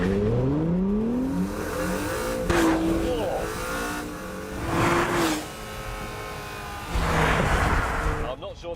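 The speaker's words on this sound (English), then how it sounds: "Here we go, launch control. Foot on the brake, mash the pedal." A Honda NSX set in track mode launches hard with launch control, its engine note climbing through several rising sweeps separated by brief gear-change dips, loud and close.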